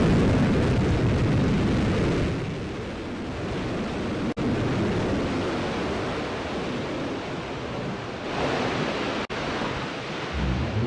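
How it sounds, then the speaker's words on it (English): A New Shepard rocket booster comes down to land with a loud, steady, roaring rumble. The broad roar continues without a break, with a brief dip in intensity partway through. "Amazing, another picture-perfect landing for the new Shepard rocket booster."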